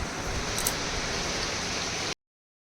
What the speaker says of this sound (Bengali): তুমুল বৃষ্টি হচ্ছে জোরে জোরে